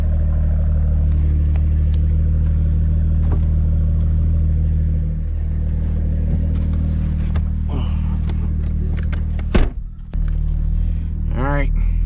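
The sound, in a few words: 2021 Supra accelerating with new exhaust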